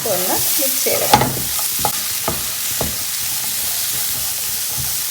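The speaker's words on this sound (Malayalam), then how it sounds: "അപ്പം നമുക്ക് മാങ്ങയും കൂടി ഇട്ടിട്ട് വേണം ഒന്ന് മിക്സ് ചെയ്തെടുക്കാം." Mango pieces are stirred into hot pickle masala in a pan, a loud, steady frying hiss broken by a few scraping stirs and knocks early on, close and continuous.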